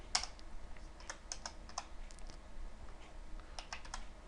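Typing on a computer keyboard set up for video games, a close, quiet run of clicking keystrokes in small irregular bursts with gaps between them, no voice.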